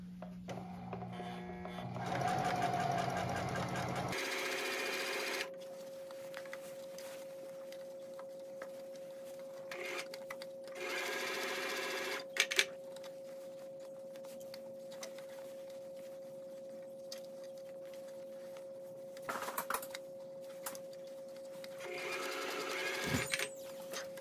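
A sewing machine stitching a Jos A Bank suit during home tailoring, with a steady mechanical whir that runs in several stretches of stitching broken by brief stops and clicks, close and continuous, no talking.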